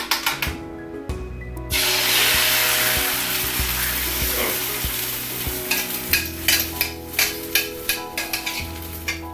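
Scrambled eggs cooking in a non-stick pan, a close, steady sizzle with repeated scraping and tapping strokes of a utensil that grow into a regular rhythm toward the end.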